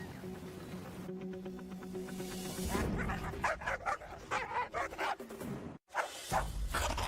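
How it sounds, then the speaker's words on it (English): A dog barks in a rapid series of sharp, nearby yips and woofs, with a short whine in between. "That's the dog right there."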